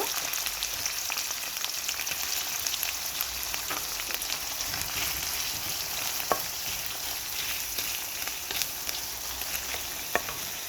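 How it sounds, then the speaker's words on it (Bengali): Dried loitta fish frying in oil with garlic, onion and green chilli, giving a steady, fairly quiet sizzle with a few faint clicks of stirring, no voices. "আমি লইটা শুটকিটাকে খুব ভালো করে তেলে ভাজা ভাজা করে নেব"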